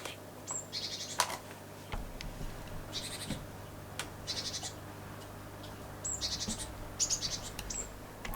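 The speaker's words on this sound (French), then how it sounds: "Il y a un petit oiseau qui chante, agréable, hein." A small bird sings repeated short chirping phrases outdoors, fairly faint against a low background hum, with bursts spread evenly across the stretch.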